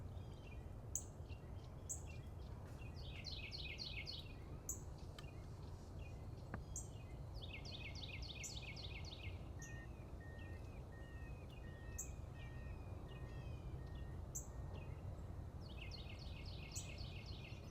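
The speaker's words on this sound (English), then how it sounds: "all the birds are waking up. Oh, listen to that." Several birds sing and chirp in a morning butterfly garden in repeated bright phrases over a faint hum of background noise, fairly distant and quiet.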